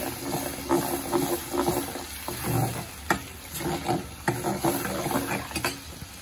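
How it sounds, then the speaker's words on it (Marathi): Masala paste for a Goan mackerel curry sizzles and crackles as it is stirred and roasted in oil in a pan, with repeated scraping strokes of the spoon over a steady frying hiss, close up. "आता मसाला छान भाजून घेऊया आपण पहिले, एकदम सुगंध येईपर्यंत भाजायचं."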